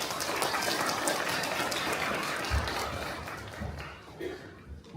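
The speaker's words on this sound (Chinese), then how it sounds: "我们先拍手归荣耀给神。" A church congregation claps to give glory to God at a Sunday service, broad crowd clapping filling the first seconds and fading away toward the end, with some speech over it.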